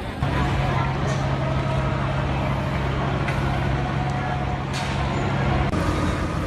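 Fire trucks and other heavy vehicles idling and moving near a burning mall in Banda Aceh, a steady loud engine rumble with passing traffic and air-brake hiss, a voice talking over it.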